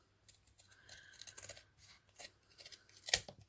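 Scissors trim pink glitter ribbon for a hair bow, a series of soft, close snips and rustles ending in one sharper, louder cut.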